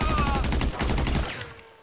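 Rapid automatic gunfire in GTA V Online, a dense run of loud bursts for over a second before trailing off into echo, with faint game voices beneath.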